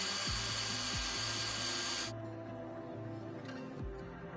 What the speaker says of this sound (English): Repair clamps will be installed and then drilled into the pipe.